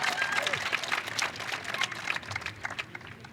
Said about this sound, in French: Faites entendre votre voix, faites entendre vos applaudissements.